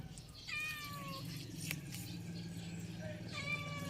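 A cat meows several times, high and thin, while people talk in a kitchen and a steady background hum carries underneath.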